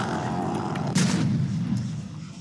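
A bomb explodes in a first-person video game, a loud, close boom with a rumbling tail that fades over a couple of seconds.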